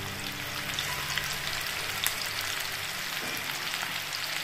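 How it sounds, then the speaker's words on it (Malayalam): Fish shallow frying in oil in a pan, a steady close sizzle with fine crackling spatters running throughout, alone with no voices. "ഇത് അധികം നന്നായിട്ട് ഫ്രൈ ആവുമൊന്നും വേണ്ട ഒന്ന് ഷാലോ ഫ്രൈ ആയാൽ മതി"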